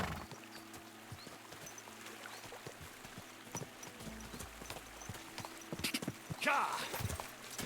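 Hooves of a horse named Crow clop steadily in Kingdom Come Deliverance 2, quiet and rhythmic beneath game ambience, while a player talks over the footsteps.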